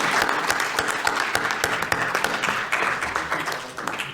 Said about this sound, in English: So let's give a huge round of applause for everyone's commitment for today.